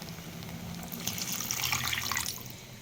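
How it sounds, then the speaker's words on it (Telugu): Water is poured into an egg curry, a steady splashing stream that swells in the middle and then eases off. "ఇప్పుడు నీళ్ళు కూడా వేసేసుకొని"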